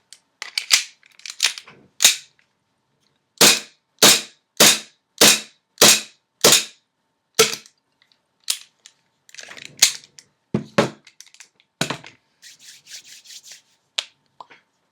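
Airsoft M1911 gas blowback pistol firing a run of sharp, loud shots, a few quick ones then a steady string of about seven evenly spaced cracks, followed by softer clicks and gas hiss.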